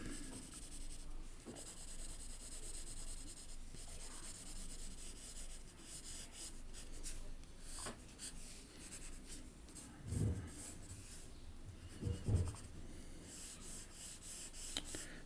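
Pencil scribbling loosely on paper in an illustration exercise: continuous close, quiet scratchy rubbing strokes with a few sharper taps and breaths, no speech.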